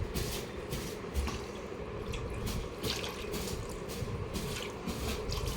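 Water mixed for bathing a Radharani deity idol is poured and splashes in a steady wet trickle with soft drips and squishes throughout, close by and unbroken by speech.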